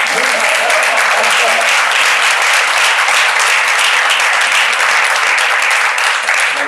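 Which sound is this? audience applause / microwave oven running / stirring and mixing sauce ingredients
audience applause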